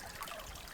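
Creek water trickling and dribbling over stones in a shallow stream, a faint, steady wash with no talking.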